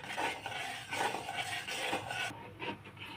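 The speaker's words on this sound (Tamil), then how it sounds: "நல்லா கலக்குங்க." A spoon stirs a gram flour chutney mixture in a pan, giving a steady, soft rasping and scraping that repeats in uneven strokes, close but fairly quiet.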